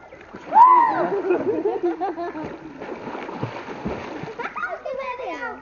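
People swimming at a village home: close splashes of water, the loudest near the start, under a mix of lively voices including a child.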